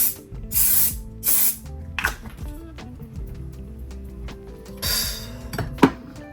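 Makeup setting spray hisses onto a face in several short, close bursts of roughly half a second each. Small clicks and clinks from the bottle come between the sprays.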